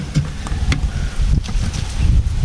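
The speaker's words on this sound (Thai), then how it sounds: "คือลมนะครับ" Wind gusts through a mountain forest in Thailand, a low buffeting rumble that swells and eases against the microphone, with a few faint ticks and no talking.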